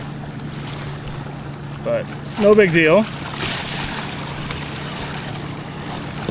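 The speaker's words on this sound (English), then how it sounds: "there's some pretty nasty waves in front of me from all this boat traffic" Choppy water and wind noise around a kayak on the Missouri River, churned up by boat traffic, a steady washing rush under a voice.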